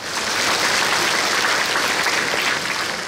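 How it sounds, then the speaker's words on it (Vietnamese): A round of applause from a gathered audience fills the space evenly and continuously, dense and sustained from start to finish. "Cho một tràng pháo tay."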